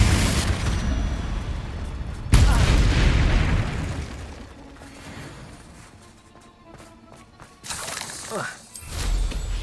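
A Confringo blasting spell explodes in the video game Hogwarts Legacy, a loud sudden boom that decays into rumble. A second burst follows later, with a voice speaking amid the game effects.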